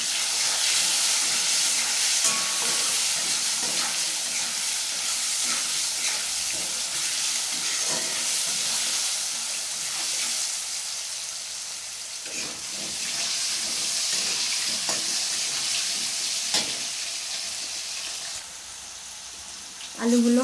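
Potatoes frying in a pan with salt and turmeric for a Bengali fish curry give off a steady, fairly loud broadband sizzle and hiss that runs continuously, easing slightly toward the end.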